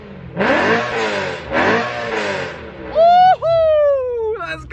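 A BMW E92 M3 fitted with a Valvemaster full catback exhaust revs loudly up close, several sharp throttle blips swelling and falling before a high, sustained rev that dips and climbs again.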